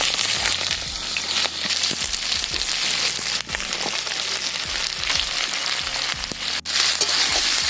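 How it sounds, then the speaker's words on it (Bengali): Onion and capsicum fry in oil in a kadai, giving a loud, steady, dense sizzle that runs throughout with occasional stirring clatter and no voices. "সব মাংসগুলো ভেজে তুলে নেওয়ার পর কড়াইতে তেল দিয়ে পেঁয়াজ আর ক্যাপসিকাম দিয়ে একটু ভাজতে হবে"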